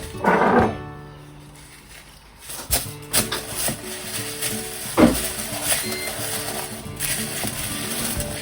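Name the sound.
mixing cornflake nest cake mixture in a bowl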